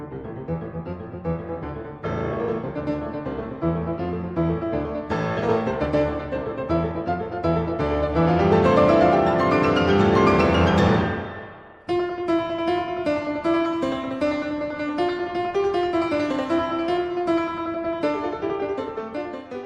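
A very large concert grand piano is played in a virtuosic passage, dense rapid runs and full chords rising to a loud climax, then a brief break and a steady, resonant continuation.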